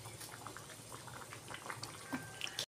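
Ash gourd shukto with lentil dumplings bubbles gently in a pot, a soft, low simmer with faint popping that carries on steadily before stopping abruptly.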